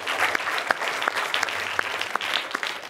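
A studio audience on a children's magic show claps for two young performers, with dense applause and sharp individual claps standing out near the microphone.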